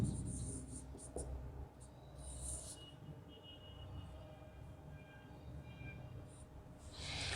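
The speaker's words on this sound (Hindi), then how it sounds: "इसको यहां पर लिख लेते हैं हम।" Marker strokes on a board during a Class 12 biology lesson, faint and intermittent scratching over a quiet room hum, with soft squeaks in short bursts and no clear talk.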